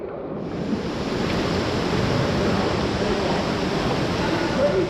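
Indoor waterpark wave pool surf at Blackpool Sandcastle Waterpark, a loud continuous wash of churning water with a broad roar filling the whole stretch and slight swells in intensity.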